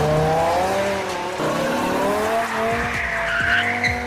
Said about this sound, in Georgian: რომ ლეგენდარული S60 თაობის M5 არ ვახსენოთ.